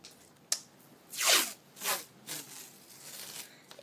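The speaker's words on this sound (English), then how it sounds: "Now, you take some masking tape." Masking tape pulled off the roll in a few close, ripping strips with short pauses between them, followed by a small tap, while a beetle trap is made from a cup.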